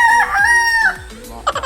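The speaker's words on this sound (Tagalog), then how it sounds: "Manok." A rooster crows loudly and close, one long cock-a-doodle-doo, followed by a few short clucks.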